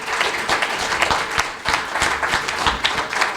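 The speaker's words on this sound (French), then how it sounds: "Rejoignez-moi pour applaudir." A smaller audience at a celebration honouring Fatimata Mbaye applauds in close, uneven bursts, individual claps distinct and punchy, with the clapping swelling and dipping over a few seconds.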